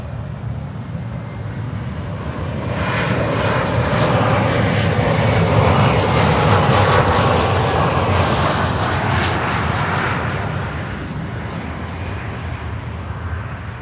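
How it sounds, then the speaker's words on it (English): An Embraer 175 airliner arriving at Miami, its jet engine roar swelling from a distant rumble to a loud broad peak and then fading as it passes, with no talk. "American Airlines 175, an Embraer 175 coming in from Tampa in Florida."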